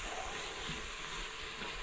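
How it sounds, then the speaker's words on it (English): Onions and celery sauté in an Instant Pot, a soft, even sizzle and hiss that stays constant and fairly quiet throughout the brief moment. "Now we're going to want to cook the onions and celery until about the 3/4 done."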